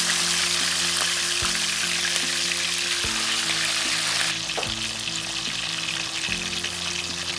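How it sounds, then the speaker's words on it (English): Fish fries slowly in hot oil for an attieke meal, giving a loud, continuous close-up sizzle and crackle with occasional soft bumps of the pan or utensil, and no voices. "We're going to be frying the fish nice and slow."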